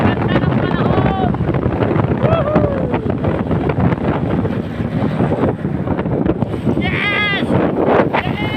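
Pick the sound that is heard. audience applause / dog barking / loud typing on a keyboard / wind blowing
wind blowing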